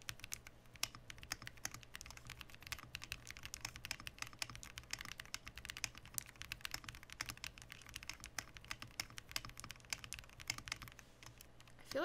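Fast, steady typing on a mechanical keyboard with foam dampening, a dense run of soft, fairly quiet clacks heard up close with no talk.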